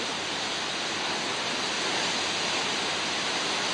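Choppy ocean waves at the south end of Honolulu Bay on Maui make a steady, loud, broadband wash of surf with no breaks and no voices.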